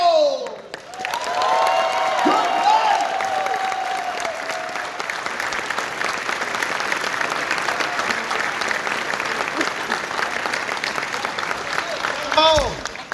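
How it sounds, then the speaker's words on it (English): A large crowd applauds loudly and continuously at a festival closing ceremony, with some cheering mixed in, holding strong to the end. "give one final round of applause"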